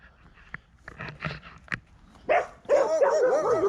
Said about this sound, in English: These dogs all barking at another dog further down.